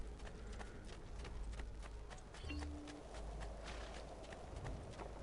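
Horse hooves clip-clopping at a steady walking rhythm in the video game Assassin's Creed Ezio Collection, close and clear over a low ambient rumble, with no talk.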